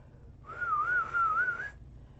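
A person whistles a single wavering, warbling tone for about a second, a clear steady whistle standing alone in a quiet room.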